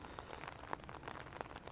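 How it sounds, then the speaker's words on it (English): Steady rain falls on a garden with water features, a faint, even wash of drops with a few sharper taps scattered throughout. "now it's getting to be more like a healthy amount of rain."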